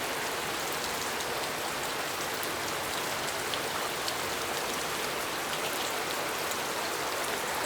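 Rain during a storm with flooding and king tides at Homestead Bayfront marina, a steady close hiss of drops pattering on surfaces, constant and even throughout with no voices.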